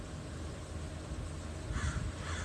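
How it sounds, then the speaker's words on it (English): A crow caws outdoors, two rough, fairly loud calls near the end over steady background noise, with no speech. "Yeah, the crow's really rowdy"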